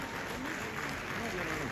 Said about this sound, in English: Can we keep the applause going